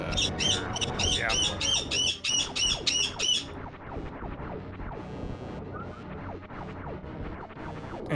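A pet bird named Chloe squawks in her cage indoors, giving a rapid series of loud, shrill calls for a few seconds before settling into softer, sparse chirps against background noise.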